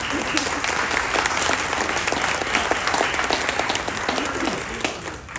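An audience bursts into sustained, dense applause that holds at a steady, loud level throughout at a community park exhibit event, with many hands clapping at once and no clear pauses.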